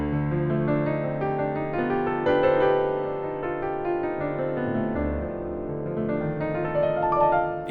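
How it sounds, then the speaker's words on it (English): Dorian flat 2 scale, a mode of the melodic minor, played as a run of clear sustained pitched notes stepping through the scale, close and even, with no talking. "Dorian flat 2 has a really cool sound. It sounds like this."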